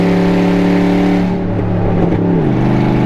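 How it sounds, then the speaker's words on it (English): Car engine revving steadily with an automatic transmission shifting gears, the engine note dropping as it shifts and the overdrive locks up; a loud, close drone with no talking. "Oh, there's shifting. And overdrive locked up."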